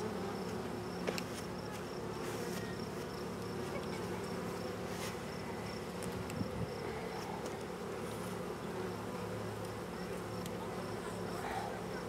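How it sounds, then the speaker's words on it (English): Honey bees buzz steadily and loudly throughout a spring hive inspection, a dense continuous drone with a few louder passes near the microphone. "A bee's on top of it."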